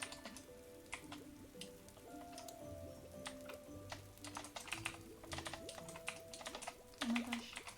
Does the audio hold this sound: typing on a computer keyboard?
yes